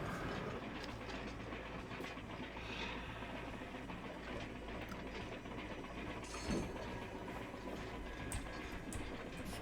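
A spider-legged train in the video game Hard West 2 rumbles steadily along with rattling, clanking mechanical clatter, continuous and fairly dense throughout.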